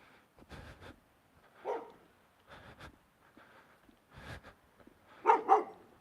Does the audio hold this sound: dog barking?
yes